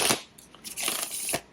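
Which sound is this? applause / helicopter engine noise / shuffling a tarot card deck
shuffling a tarot card deck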